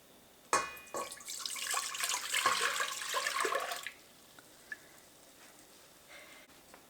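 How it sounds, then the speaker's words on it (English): Violet infusion poured into a saucepan, a clear close gush of liquid for about three seconds that ends abruptly, followed by a few faint drips and clinks. "I'm going to put this into a saucepan."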